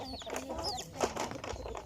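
White chickens cluck in a morning yard: several short close calls and squawks in quick succession, with low background noise.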